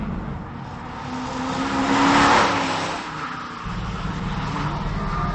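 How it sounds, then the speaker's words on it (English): A bright orange 2004 Ford Mustang Mach 1 with a 5-speed manual on a road course, its engine note swelling loud as it accelerates, then easing off and settling into a steady drone. "We're testing the 2004 Mach 1 Mustang."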